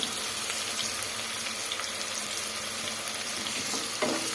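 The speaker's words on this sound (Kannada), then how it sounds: "ಸೇರಿಸಿ ಇದೆಲ್ಲ 1 ನಿಮಿಷ ಫ್ರೈ ಮಾಡ್ಕೊಳ್ಳೋಣ" Garlic and cumin fry in a pan with a loud, continuous close sizzle and hiss, then a brief scrape or stir near the end.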